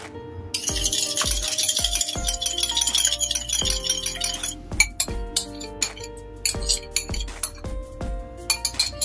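An egg is stirred into melted margarine in a bowl, a spoon or whisk striking the glass in quick ringing clinks, steady at first, then in irregular bursts with short pauses.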